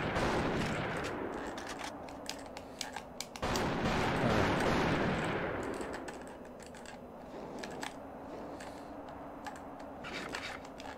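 Gunfire in The Thing video game: sharp repeated shots crack over a busy, constant game soundscape, with a denser burst of shooting around the middle.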